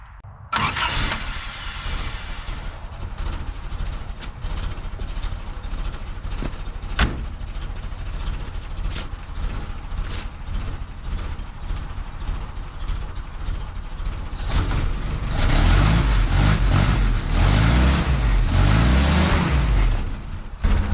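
A 1955 Willys CJ5 Jeep with new gaskets and an upgraded exhaust runs at a low, uneven idle, then a louder burst of engine revving or restarting swells near the end, heard up close with no talk.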